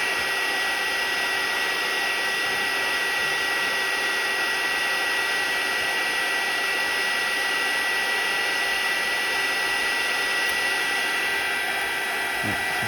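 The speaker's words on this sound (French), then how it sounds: "Mon décapeur thermique est en avant. Donc là, hop, je viens chauffer." A heat gun blows hot air onto an iPhone 11 during a screen and back glass repair. Close and loud, it makes a constant whooshing roar with a faint steady tonal hum, unbroken for the whole stretch and with no talk.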